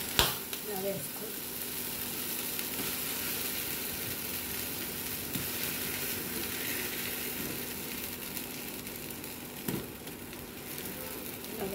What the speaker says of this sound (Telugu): ఇడ్లీ పిండి ఇలా వేసుకోవాలి.